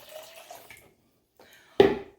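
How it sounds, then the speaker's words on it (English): Warm water poured into a graduated cylinder during a classroom carbon dioxide experiment: a faint trickle, a pause, then a brief louder splash near the end, with no talking. "what I'm going to do is take some warm water and pour it into"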